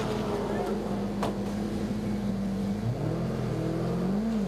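Onboard engine drone of the Smeg Racing Commodore V8 SuperTourer racing at Hampton Downs, a steady loud mechanical hum that rises in pitch toward the end, with commentary voices running over it.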